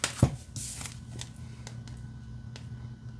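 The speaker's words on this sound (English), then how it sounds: "the last little test here, I want to see how it shuffles" Oracle card deck from an Anatomy of a Witch oracle set being riffle-shuffled by hand, a brisk papery flutter with a sharp tap near the start, close and fairly quiet over low room hum, no talking.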